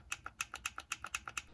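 Xbox 360 controller bumper button being pressed repeatedly, a good unit giving crisp, clicky snaps in a quick, fairly even rhythm, close up and quiet.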